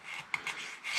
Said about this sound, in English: So this one definitely needs filing.